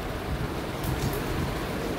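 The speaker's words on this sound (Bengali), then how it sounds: "আরে বৃষ্টি রে।" Steady rain falls outdoors just after a storm that left a tree down, a dense, even hiss of drops with no voices.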